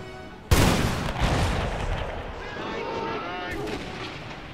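Massed rifle fire in an Anglo-Zulu War strategy game set at Isandlwana: one sudden loud volley opens a dense crackle of many shots, which settles into a rolling, steady din of continuing fire.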